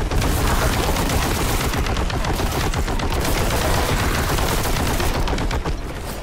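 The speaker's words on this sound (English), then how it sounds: "This heavy bolt gun." Heavy bolt gun firing in the retro shooter Boltgun, a dense, loud, continuous barrage of rapid booming shots with no pauses, close and dominant.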